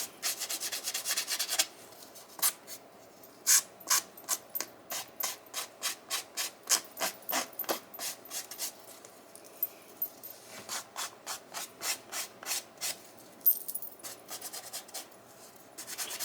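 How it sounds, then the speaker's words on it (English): A fingernail file rasps along the edges of plain paper envelopes in quick repeated strokes, a steady run of short scratchy bursts with brief pauses, close and fairly quiet with no talking. "And just file the edges off."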